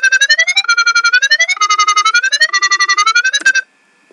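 A dubstep wobble bass synth made in FL Studio pulses in fast rhythmic wobbles, loud and alone, with shifting pitch steps before stopping short near the end.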